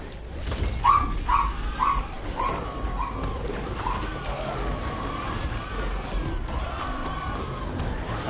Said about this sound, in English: I apologize if you guys hear my dogs.